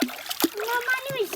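A splash from someone jumping into water, a short burst followed by a second splash about half a second later, with a voice and other voices heard over it.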